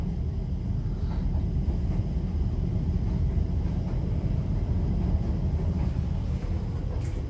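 A train passes overhead near a home in Sweden, heard as a steady, fairly faint low rumble that stays even for several seconds, with no voices.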